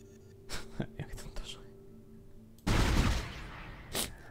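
Soft talking comes first. Then a Dead Space weapon lets out a sudden loud burst that fires three shots at once, followed by a smaller blast near the end.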